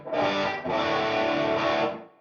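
Distorted electric guitar runs through a Line 6 Metallurgy amp modeller with its room-mic reverb, two dense sustained chords with a short airy tail as the second one fades.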